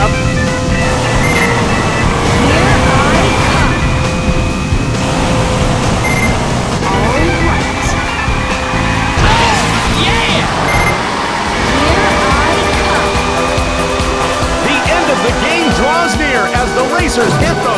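Chrysler Prowler race car engine whining and revving through laps of a racing video game, loud and continuous with shifting pitch, under an energetic commentator's running narration.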